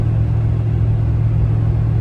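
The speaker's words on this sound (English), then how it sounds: "put a battery in the Sequoia, and we're driving it." Engine of a Toyota Sequoia truck running while driving, a loud, steady low drone and road rumble that holds level and close throughout, with no one speaking.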